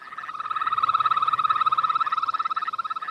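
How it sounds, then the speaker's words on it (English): A Yosemite toad gives a sustained, steady high trill mating call, rapidly pulsed and bird-like, loud and close throughout with no other sounds over it. "the Yosemite toad has two basic calls. They have a trill, which sounds a little bit like a bird call."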